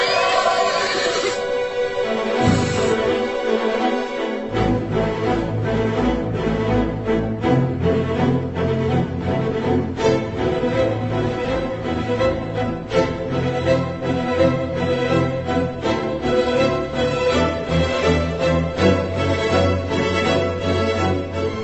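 In a radio drama, a horse whinnies near the start as a horse-drawn cart rolls into a village, followed by a continuous busy soundscape of cart movement and background sound.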